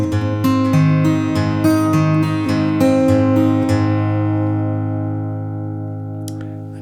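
An acoustic guitar plays the intro of a song, with a run of bright picked notes over ringing bass strings that fades into a long sustained decay, loud and close, with no talking.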